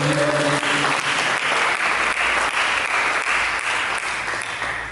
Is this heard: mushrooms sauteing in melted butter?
no